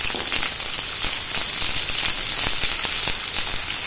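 Steady, bright sizzling of onions and garlic frying in hot oil, loud and close, with small crackles popping throughout.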